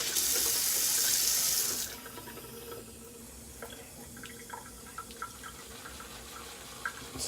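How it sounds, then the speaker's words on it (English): Tap water runs loudly and steadily into a shaving soap bowl for about two seconds, then cuts off, leaving faint clinks and small handling sounds in a quiet room. "So I'm gonna add a little bit of water."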